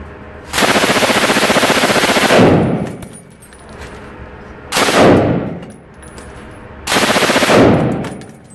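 An MG-42 machine gun rips off three long, loud bursts at an extremely high rate of fire, each a continuous buzzing roar lasting about two seconds, separated by short pauses with ringing echoes.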